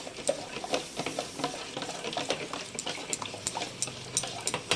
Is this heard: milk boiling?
yes